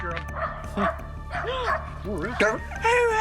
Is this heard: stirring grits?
no